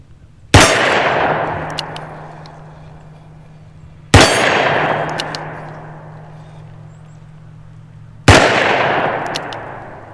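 .357 Magnum rounds fired from a Ruger SP101 revolver strike a steel target outdoors, making three loud, sharp clangs spaced about four seconds apart. Each clang rings out and decays slowly between shots.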